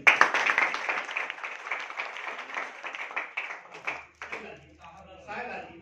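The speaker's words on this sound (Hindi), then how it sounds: "और तालियां बजी" Clapping from an audience at a training meeting, a dense burst of applause that tapers off after a few seconds, followed by quieter sounds and a voice.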